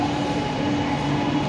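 A metro train at Egmore metro station in Chennai gives a steady, loud rumble with a sustained tonal hum, continuous and close throughout, with no voices over it.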